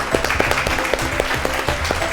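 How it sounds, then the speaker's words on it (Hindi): Studio audience applause welcoming children on a kids' show, a short, dense burst of clapping with distinct individual claps standing out near the microphone. "आए हम उन्हें भी आपकी ज़ोरदार तालियों में वेलकम करते हैं।"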